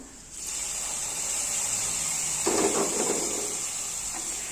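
A loud, steady sizzle and hiss as a hot fried-mustard-seed tempering is poured into prawn curry, with a brief bubbling burst midway, continuing without voices.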